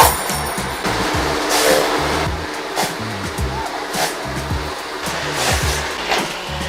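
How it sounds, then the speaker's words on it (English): A vacuum cleaner with its head covered in razor blades runs loudly, producing a harsh roaring whoosh with rapid rattling and chattering bursts as the blades scrape, close and continuous. "test out a vacuum covered with razor blades"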